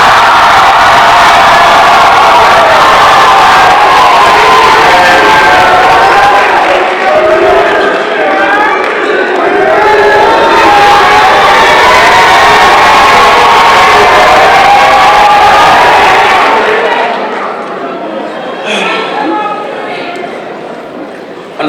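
A graduation ceremony crowd cheering and shouting, a loud, sustained roar of many voices with whoops and yells that swells for many seconds before gradually fading toward the end.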